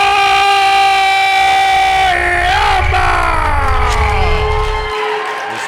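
A pro wrestling event crowd cheering loudly for challenger Kaiden Koyama, sustained roaring and chanting with rising, wavering tones like an air horn or whistle, dense and continuous before trailing off.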